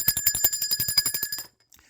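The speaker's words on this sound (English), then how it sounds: "Let's ring the bell for that." A small bell, like a bicycle bell, is struck in a fast, bright run of about a dozen close, loud rings, then cuts off and leaves near silence.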